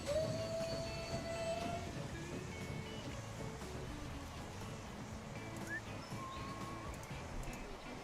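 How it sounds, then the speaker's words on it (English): A train in the game Transport Fever rolls into a mountain station, a steady rumbling rail noise with a brief high whistle-like squeal near the start, continuing evenly throughout. "Just as one of those trains is coming into the station."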